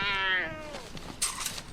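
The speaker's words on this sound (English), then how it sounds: "You've got a cat?" A cat meows once, a drawn-out falling cry at the start, followed by rustling and muffled household sounds.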